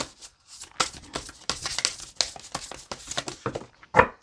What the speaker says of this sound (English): I kept shuffling.